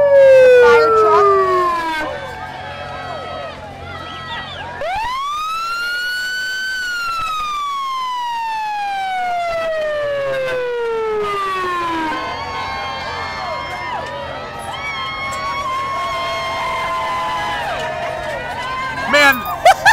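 A fire truck siren wails through a Mardi Gras parade in Dunedin, its loud rising and falling sweeps passing close by over crowd noise and people talking.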